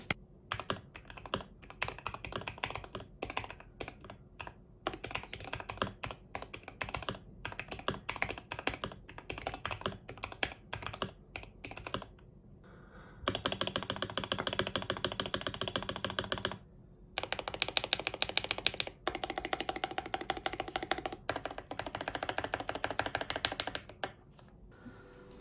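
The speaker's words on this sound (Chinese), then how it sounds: "给大家来个打字音。" Rapid typing on an AKKO mechanical keyboard with two layers of paper tape on its back, a close, steady stream of keystroke clacks heard alone with brief pauses between bursts.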